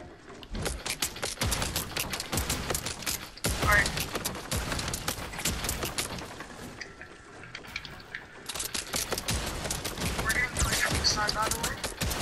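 Fortnite gunfire, long rapid bursts of close, loud shots broken by a brief lull in the middle before firing resumes, with a voice talking over parts of it.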